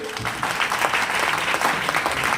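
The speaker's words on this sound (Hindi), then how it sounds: "वैसे तो एक जबरदस्त तालियां हो जाए सर के लिए।" Sustained applause from an audience at a leader training event in Satna, Madhya Pradesh, loud and steady with dense clapping filling the whole stretch.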